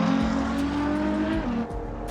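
A Ferrari 812 Superfast with its 800-horsepower front-mounted engine revving hard under acceleration, a loud steady droning engine note that drops in pitch as it shifts or eases off, with faint tire noise.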